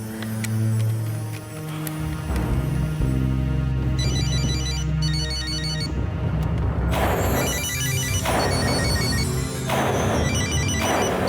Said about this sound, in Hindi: पंचम बेटा, फोन उठाओ प्लीज।